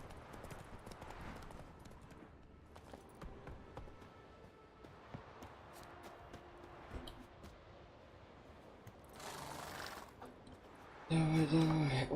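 Roach the horse gallops in The Witcher 3, a steady run of hoofbeats under game ambience, with a burst of noise near the end.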